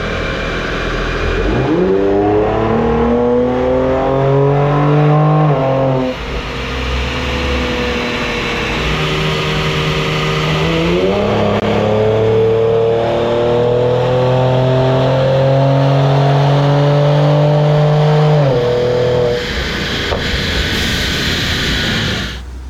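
Stock performance car strapped to a chassis dyno, the engine revving hard through three rising pulls, each climbing in pitch before a sharp drop between gear changes, loud and close throughout.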